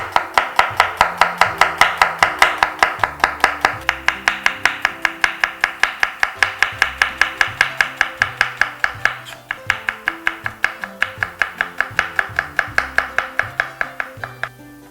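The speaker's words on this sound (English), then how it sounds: "How to chop onions?" Knife chopping onions on a board in a fast steady rhythm of sharp, evenly spaced knocks, loud and close, continuing almost without pause and with no talking.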